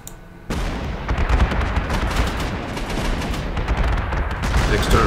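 A bombing attack in Panzer Corps 2 erupts into a dense, sustained roar of blasts and rattling gunfire, starting abruptly after half a second and staying loud and continuous, with a voice talking underneath.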